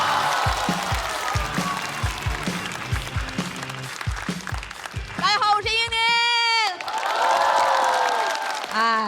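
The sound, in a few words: audience applause welcoming a stand-up comedian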